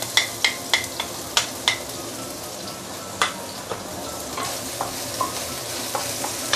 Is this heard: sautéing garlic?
yes